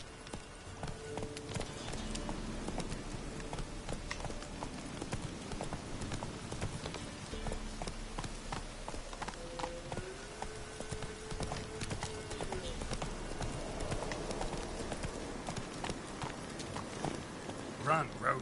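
Roach, the horse in the video game The Witcher 3, galloping with rapid rhythmic hoof clip-clop that runs steadily throughout, moderately quiet under game music, with speech heard over it.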